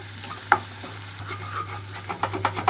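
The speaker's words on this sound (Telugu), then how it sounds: "వెల్లుల్లి ముద్ద కూడా వేసేసుకొని వేయించుకుంటున్నాను" Sliced onions with ginger-garlic paste frying in a pan, a close sizzle broken by sharp scrapes and clacks of a spatula stirring, the strokes bunching together toward the end; no one speaks.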